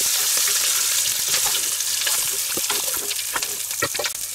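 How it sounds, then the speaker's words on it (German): Bratwurst sausages browning in a hot Dutch oven, giving a continuous dense sizzle with scattered sharper pops and spits throughout and no voices. "und gleich mit der Bratwurst weitermachen. jetzt auch noch schön anbrutzeln"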